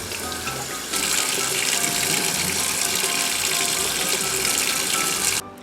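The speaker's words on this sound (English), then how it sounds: "I rinse it with warm water" Warm tap water runs steadily as a baseball hat is rinsed under it, a loud continuous gush that starts abruptly and stops near the end, close by.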